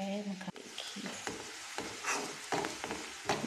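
Onion frying and browning in a little oil for a maharaja paneer gravy, a steady close sizzle broken by repeated stirring and scraping strokes of a spoon in the pan.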